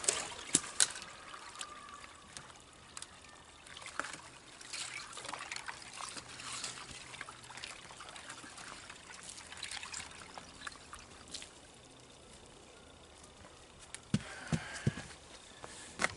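Water is stirred and trickles in a partly frozen container during outdoor morning chores, a soft continuous dribbling and sloshing that stays faint and steady for the whole stretch, with a few brief clinks and splashes.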